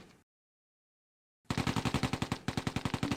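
Tank gun and machine-gun fire from a Sherman Firefly engaging a StuG in Close Combat: A Bridge Too Far, starting with a brief blip, then silence, then a loud, steady hammering burst of rapid shots.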